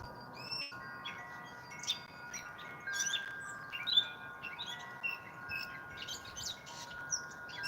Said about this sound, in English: Birds are going nuts over here right now.